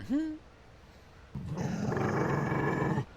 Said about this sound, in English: But it is a Mabari Warhound.